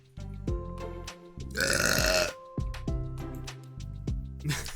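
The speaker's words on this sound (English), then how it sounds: "Her burp made it all the way from the computer lab to here." A character lets out several burps in Doki Doki Literature Club Plus, with one long loud belch in the middle and shorter ones on either side, set over a steady game music bed.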